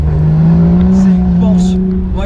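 Porsche Boxster Spyder engine drones steadily at high revs while drifting, a loud continuous tone with faint tire noise, under a person talking.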